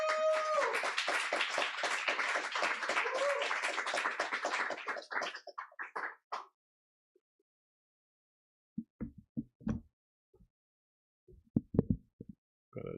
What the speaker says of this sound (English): Everyone, please give a round of applause for Jarrell Watkins.